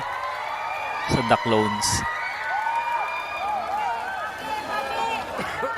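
A crowd at a live show screams and cheers for an Elvis Presley impersonator, a steady roar of shouting and whoops with a few sharper bursts and a brief voice over the top.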